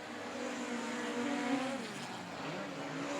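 Midget race cars roar around the Humboldt Speedway dirt oval, engines droning and shifting in pitch as a pack runs past at steady distance, loud and continuous.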